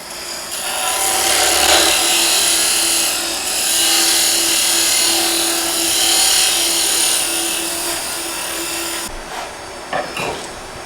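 A tool cuts a small wooden tenon, about an eighth of an inch, on a bird house ornament. It makes a loud, continuous rasping scrape that holds steady for several seconds, then stops, leaving a few soft knocks.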